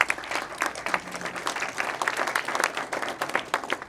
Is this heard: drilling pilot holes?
no